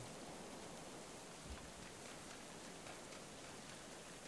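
Steady rain falls in the medieval colony-building game Going Medieval, a continuous hiss of downpour with no gaps, even and moderately loud across the whole stretch, with only a faint low thump partway through.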